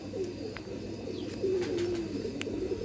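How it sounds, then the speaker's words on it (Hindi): A pigeon coos softly in a steady, low murmur with faint sharper chirps at moments, close by over a quiet background. "बहुत ज़बरदस्त कबूतर है"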